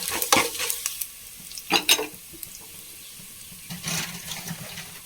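Whole spices frying in hot oil for a mushroom biryani, with a soft steady sizzle and a few louder crackling bursts and stirring scrapes, close by and without talk.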